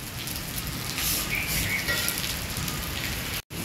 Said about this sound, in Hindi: जोर से बारिश हो रही है।